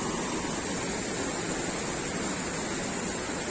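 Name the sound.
river flowing near Kothi village, Manali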